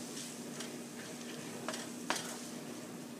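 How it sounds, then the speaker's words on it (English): Sour cream gets stirred into taco meat in a hot pan, giving a soft, faint sizzle under a few light scraping and clinking strokes of the spoon, with no talking. "And we'll stir this in now."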